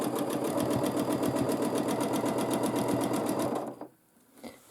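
Sewing machine stitching in the ditch while quilting a baby quilt, a loud steady rapid mechanical chatter that runs for several seconds, then stops abruptly, leaving near silence with a faint click.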